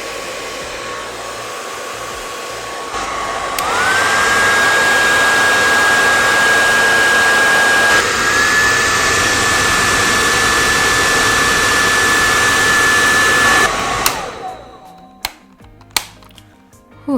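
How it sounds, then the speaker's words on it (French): A Philips DryCare Advanced hair dryer blows loudly and continuously, its whine stepping up in pitch as the speed and heat settings change, then it shuts off and winds down, followed by a few sharp clicks. "Pas très intéressant d'écouter un sèche-cheveux"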